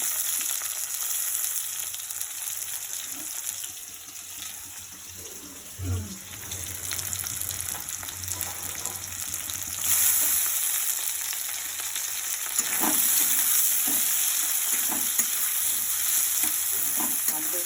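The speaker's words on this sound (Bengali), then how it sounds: "আলুগুলো আগে ভালো করে ভেজে নেবো।" Potato pieces fry in hot oil in a pan for a fish curry, giving a steady bright sizzle throughout with a couple of clinks from stirring near the middle and toward the end.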